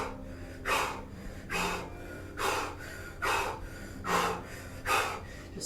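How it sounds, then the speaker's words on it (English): Forceful breaths pushed in and out through an O-shaped mouth during Kundalini yoga, six loud, rhythmic whooshing pulses spaced about a second apart, close and alone. "Inhale and exhale through that O shape."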